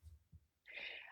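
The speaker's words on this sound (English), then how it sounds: "Sneeze coming." A single human sneeze: a short low intake followed by a quick hissing burst, faint and close, after a brief pause in conversation.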